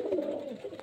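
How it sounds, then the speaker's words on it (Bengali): A single male pigeon gives a short, close coo, a soft warbling call heard alone over a quiet background. "এই একখানা নর পায়রা"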